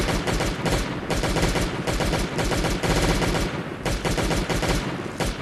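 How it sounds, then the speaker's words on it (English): Rapid continuous M16 gunfire in the Last Day on Earth survival game as a turret is shot, loud dense bursts of automatic fire filling the whole stretch with barely a pause. "You can still attack the turret from here. So that we're just going to start shooting it."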